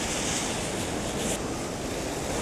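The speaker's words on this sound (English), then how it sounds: "on this side we've got a raging waterfall" A steady, dense roar of rushing water fills the clip, loud and unbroken, like a powerful waterfall heard from nearby.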